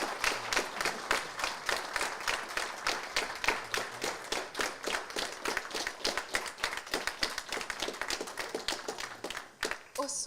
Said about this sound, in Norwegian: Så en stor applaus til dette teamet.